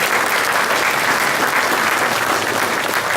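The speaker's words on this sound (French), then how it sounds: "on peut les applaudir, hein, parce qu'ils méritent le encouragement" An audience at a community council's New Year ceremony applauds local artisans, with dense, sustained clapping from a large crowd throughout and no talk.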